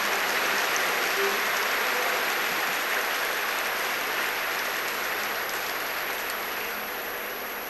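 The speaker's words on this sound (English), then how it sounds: "So, just as you clapped for this" Large audience at a spiritual gathering clapping steadily in a dense, continuous wash of applause that stays loud throughout and fades only slightly toward the end.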